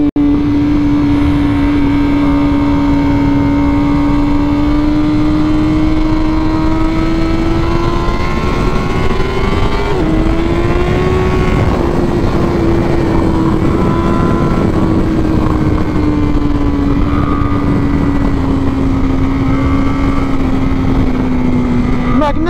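A 2021 Honda CBR1000RR-R Fireblade SP engine drones loudly and continuously on track, its pitch rising and falling slightly with throttle, heard close over strong wind rush.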